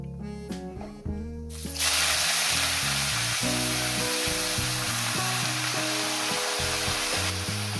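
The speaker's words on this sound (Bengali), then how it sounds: "এরপর দিয়ে দেবে শাক" Saag greens dropped into hot oil with already-fried dried red chillies, bursting into a loud, steady sizzle from about two seconds on that continues to the end, over tonal background music.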